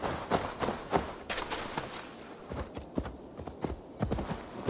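Horse hooves clip-clop in the video game Assassin's Creed Valhalla: a steady series of hoof strikes at walking pace, close and moderately loud, with no talk.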